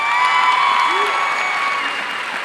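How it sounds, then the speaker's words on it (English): A crowd at a high school graduation ceremony applauds the state-champion dance team, loud sustained clapping with a brief whoop or cheer, tapering slightly toward the end. "Round of applause for them, please."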